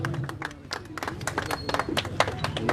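Applause at a political rally in Haryana welcoming the Hisar mayor: a crowd claps steadily and fairly close, a dense patter of hand claps lasting throughout with background murmur and a voice underneath.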